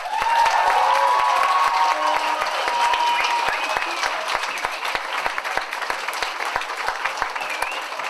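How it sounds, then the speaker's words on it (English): A round of applause from a crowd at a local talent show winners announcement, dense clapping mixed with cheers and whoops, loud at first and then thinning into scattered claps. "I think we should give him a round of applause"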